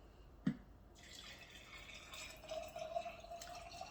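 Water being poured from a tap into a jar of juniper berries, starting with a drip and then a faint, steady trickle filling the jar.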